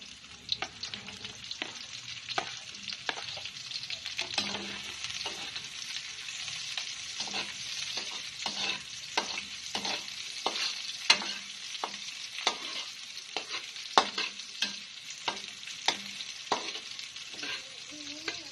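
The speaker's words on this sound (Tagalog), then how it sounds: "At lalagay na po natin ang ating sibuyas." Onions sizzle in a frying pan with a steady, close hiss, broken by regular clicks and scrapes from stirring throughout.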